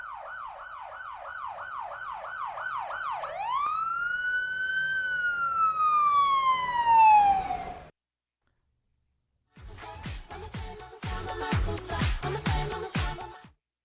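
A police car siren wails in a fast repeating yelp, then sweeps into a long rising and falling tone, loud and close. A pause of silence follows, then a burst of clattering, jumbled sound.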